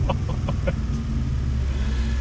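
A fake turbo device on a car gives a quick run of four short, bright chirps, like a flutter, over a heavy low engine rumble, then the engine drones on alone.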